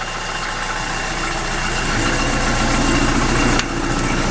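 A narrowboat engine fitted with a hospital silencer idles steadily at close range, a continuous low rumble with a slight rise partway through and no speech over it.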